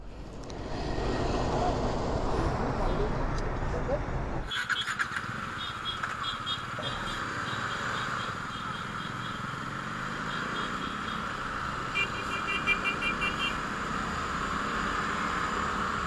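TVS RR310 and Bajaj Dominar 400 motorcycles in a drag race, with engines roaring loud and steady throughout and a sudden sharper shift in tone partway through.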